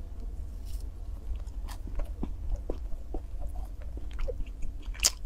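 Close, quiet crunchy bites and chewing of sachima, a sweet fried-dough snack, as a series of irregular soft crackles over a low background hum.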